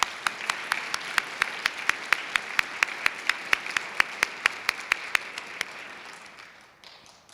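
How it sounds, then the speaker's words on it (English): Audience at a nursing pinning ceremony applauds, steady dense clapping with distinct regular loud claps from one nearby person, tapering off over the last second or two. "Please let's give them a round of applause."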